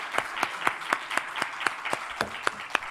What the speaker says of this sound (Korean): 기도학교는 박수로 시작해요.